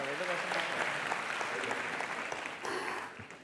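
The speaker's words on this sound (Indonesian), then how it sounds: "Sekali lagi dong tepuk tangan" Studio audience applauding at a live broadcast of the Mata Najwa anniversary show in Jakarta, a steady dense wash of clapping that holds loud throughout and thins slightly near the end, with voices mixed in.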